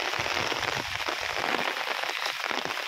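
Heavy rain pours steadily in a Konkan village, a dense, loud, continuous hiss of drops striking surfaces with no voices.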